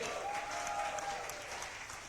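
An audience at a business presentation event bursts into sustained applause, a dense, even clatter of many hands heard from a distance, with a faint tone running underneath.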